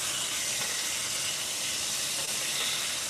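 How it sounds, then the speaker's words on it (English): Steak searing in a hot pan, a dense, continuous sizzle and hiss that stays loud and even from start to finish, with no talking over it. "So we're just gonna let these sear."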